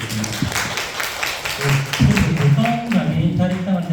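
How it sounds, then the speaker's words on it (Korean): Guests are welcomed with applause at a Gyeongsangnam-do disability welfare budget report event, a crowd's clapping mixed with voices and some shouting, growing louder in the second half. "큰 박수로 부탁드리겠습니다."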